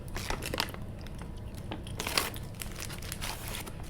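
A Nestlé Crunch Rice Krispies chocolate bar being unwrapped and eaten up close: crinkly wrapper rustles and sharp crunchy bites with chewing, steady and intimate, with no talking.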